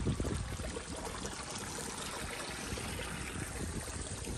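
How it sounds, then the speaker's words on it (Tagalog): Clean stream water in Japan runs steadily with a close, continuous rushing and trickling wash that stays even throughout, with no voices. "Ayan ang tubig po, ang linis."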